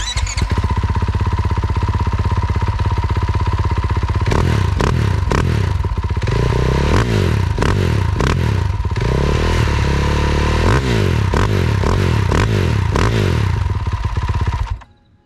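A 2021 Husqvarna FC 450 Rockstar motocross bike with an FMF slip-on exhaust idles roughly, then is blipped through a series of sharp revs with rising and falling pitch, loud and close, before the engine cuts off.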